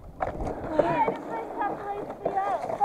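A rowing crew takes strokes on open water in a winter league race, oars and hull making soft rhythmic splashes and creaks beneath a coxswain's calls and wind noise.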